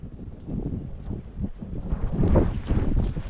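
Strong wind buffeting the microphone in rough, low rumbling gusts that build louder toward the end, with no voices.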